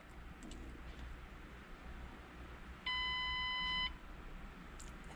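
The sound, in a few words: car diagnostic tool beeping while clearing trouble codes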